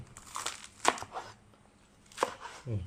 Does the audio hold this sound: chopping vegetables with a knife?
yes